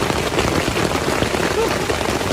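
Rain falls on a camping tent, a dense, steady hiss and patter of drops that fills the whole moment at loud volume, with faint voices mixed in.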